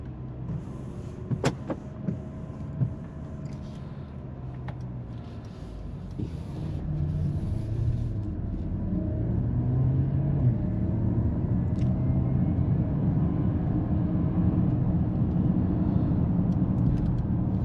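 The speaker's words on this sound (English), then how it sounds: "if you switch it up to sport mode, the engine comes to life" A 2025 Mercedes GLE 450e plug-in hybrid SUV drives in sport mode with its engine running, giving a low cabin rumble that grows gradually louder and steadier, with a few faint clicks early on and no talking.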